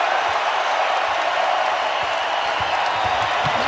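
Denver Nuggets home crowd in a basketball arena during a playoff Game 7 against the San Antonio Spurs, rising to its feet with loud, sustained cheering and applause, a dense continuous roar.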